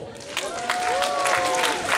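Applause from the audience at a festival awards ceremony, a steady patter of many hands clapping in a hall, moderately loud and sustained, with a faint tonal sound running through it.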